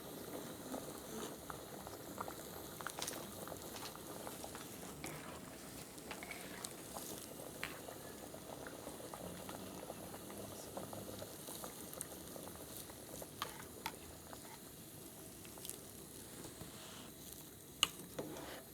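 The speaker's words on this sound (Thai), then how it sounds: "ต้มจนกว่าสกูมันสิสุกเม็ดมันใสแล้วถือว่ามันสุก" Tapioca pearls boil in a pot of water for a Lao pumpkin and coconut milk dessert, a soft continuous bubbling with faint patter and occasional small clicks, steady and fairly quiet throughout.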